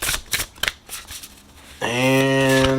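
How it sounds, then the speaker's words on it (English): Oracle cards from a self-care deck being shuffled, a few soft riffling bursts of card stock, close and moderately loud, then a sustained tonal hum takes over for the last second. "So we're going to shuffle"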